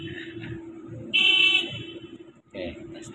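Horn of a Komatsu PC200-10 excavator with an engine fault gives one short, loud tonal blast of about half a second over a low machine hum, with someone talking before and after.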